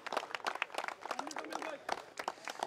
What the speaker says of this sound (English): I think you do have a big round of applause